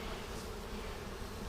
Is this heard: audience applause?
no